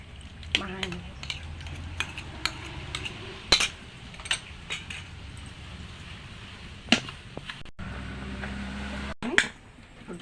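Semolina is stirred into yogurt in a bowl with a spoon, giving repeated scraping and clinking strokes in an uneven rhythm, close and fairly clear, while a person talks over it.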